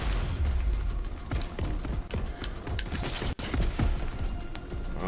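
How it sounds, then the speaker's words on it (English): Explosions and gunfire rattle through a chaotic firefight in Crackdown 3, dense overlapping blasts and crashes keeping up a loud, continuous barrage with one abrupt cut midway. "All them explosions"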